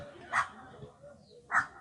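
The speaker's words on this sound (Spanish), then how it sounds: "Un perrito que ladra a lo lejos." A small dog gives two sharp barks about a second apart, faint and distant against a quiet background with a soft murmur beneath.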